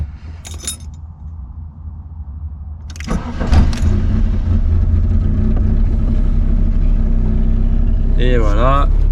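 A 1987 Volkswagen Cabriolet Mk1 engine cranks briefly and catches, then settles into a steady, close idle that runs loud to the end, with a short voice and some rattling before the start.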